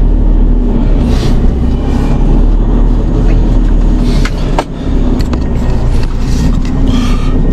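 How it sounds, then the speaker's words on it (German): An excavator driving downhill gives a steady, loud, close low rumble with engine drone and faint clanks over it, constant for the whole stretch. "fahren mit der Bagger runter"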